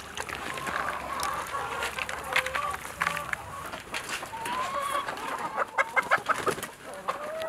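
Chickens on a Thai garlic farm cluck and squawk nearby in a busy, irregular stream of short calls over outdoor background noise.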